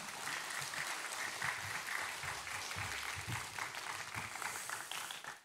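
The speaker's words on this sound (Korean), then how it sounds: "목사님 나오실 때 큰 박수로 맞아 주시기 바랍니다." Congregation applause welcoming the senior pastor to the pulpit during a church service, a steady wash of many hands clapping from a distance, quiet and even throughout.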